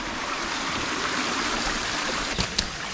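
Flowing water at a small temple pond on the Brahmagiri hills, a dense steady rushing and trickling sound close by, constant throughout with a couple of brief knocks near the end.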